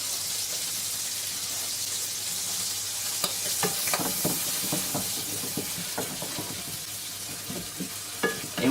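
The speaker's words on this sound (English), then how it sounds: "You can smell the garlic and the chorizo cooking now." Garlic and chorizo fry in a pan with a steady, loud sizzle throughout, while sharp scraping clicks from stirring come and go over it, most often in the second half.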